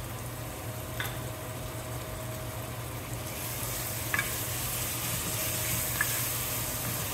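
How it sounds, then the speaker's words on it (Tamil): Chopped tomatoes fry in a pan of village-style mutton curry, a steady close sizzle with a few soft clinks of the spoon as it is stirred, and no speech. "இப்போது 1 கப் அளவுக்கு பொடிசாக வெட்டின தக்காளி சேர்க்குறேன்."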